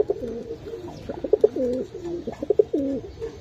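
Pigeons at a bird market, including crested birds, coo over and over in a close, steady rhythm of soft throaty calls with a few wing flutters and no talk.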